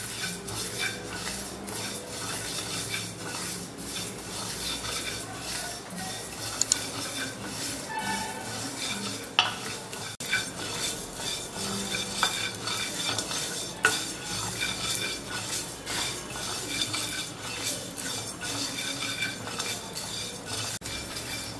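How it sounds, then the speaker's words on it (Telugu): Coriander seeds dry-roast in a pan under constant stirring: a busy, close rattle of seeds and spoon scraping metal, with occasional clinks and a light sizzle running throughout. "ఇలా 4 వేపులు మనం కలుపుకుంటా వేపుకుంటా ఉండాలన్నమాట."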